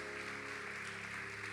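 A church congregation claps in a steady, dense wash of applause, with sustained music playing underneath.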